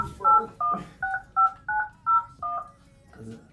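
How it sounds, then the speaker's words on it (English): Touch-tone telephone being dialed for a call, about seven crisp DTMF beeps in quick, even succession, fairly close and clear, with a brief voice murmur at the end. "I gotta make a phone call."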